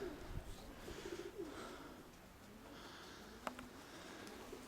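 Near a racing pigeon loft, a pigeon gives soft, faint cooing notes in a short series early on, set against quiet outdoor background and a sharp click later.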